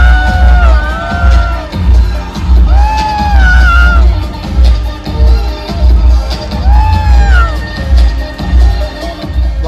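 A packed audience at Bovi's Naughty by Nature comedy show, his first since lockdown, roars loudly and continuously, with whoops, shrieks and shouted cheers rising and falling in waves.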